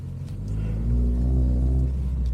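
Renault Clio hatchback driving, a low steady engine rumble from inside the cabin that swells slightly as the car pulls along, with no voices over it.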